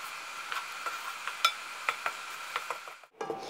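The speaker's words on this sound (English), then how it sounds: "Now we're going to mix this until it thickens." Cornstarch sauce for bok choy being stirred in a pan until it thickens, a soft continuous scraping broken by light utensil clicks against the pan at a steady pace, fairly quiet and close.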